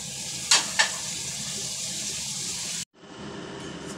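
Water poured into a cooking pot of spiced potato curry after yogurt, a steady close gushing pour with a couple of brief splashes early, breaking off sharply and then resuming more faintly.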